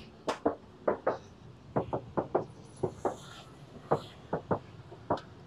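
Knuckles rap on the door of a 2018 Suzuki Baleno hatchback, checked for body filler. The knocks come as a series of sharp, close, dull taps in irregular pairs and singles with short pauses between them.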